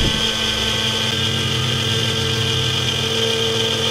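A mixer grinder beats eggs for brownie batter, its motor giving a loud, steady whirring hum with no break across the whole stretch.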